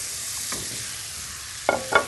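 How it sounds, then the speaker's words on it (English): A steady sizzle from a hot frying pan with margarine, followed by a few louder crackling bursts as floured veal hits the fat near the end. "when you throw the veal in, it's going to sear"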